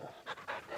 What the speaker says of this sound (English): Pet that dog.